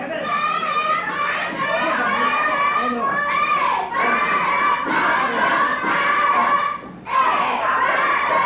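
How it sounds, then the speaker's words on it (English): Wrestling crowd roaring and chanting in unison at a Georgia pro wrestling match, a loud, dense mass of voices swelling steadily with a brief dip before surging again. "You can hear the chant being picked up now by the crowd."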